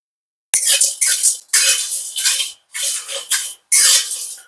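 Homemade biryani masala spices are stirred in a pan over a low gas flame, producing close, crisp scraping and sizzling strokes in four or five separate bursts with short silent gaps between them.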